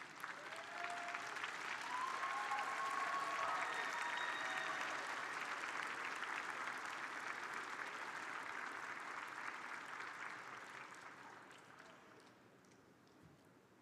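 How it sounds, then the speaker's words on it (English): Graduates at a university fall commencement ceremony give a long, full round of applause from a large crowd, steady and loud before gradually fading toward the end. "give them a heartfelt round of applause and thank them for everything they have done to help you get here"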